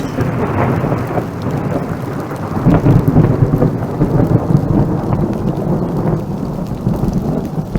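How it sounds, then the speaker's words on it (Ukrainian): Low rumbling thunder rolls through a steady downpour, the rumble swelling midway and lingering under the constant hiss of heavy rain. "Перший раз так загриміло, я навіть не зрозумів, чи то гроза, чи то вибухи."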